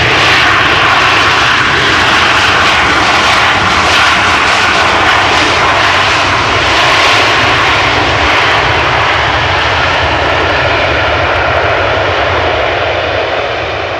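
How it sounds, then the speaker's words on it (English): Boeing 737 jets landing at Amsterdam Schiphol roar with full reverse thrust, a loud, steady broadband engine rumble that holds for the whole stretch and eases slightly at the end, close and continuous with no talk. "Actually impressive how loud those 737s can be when they do use their reverse thrust fully."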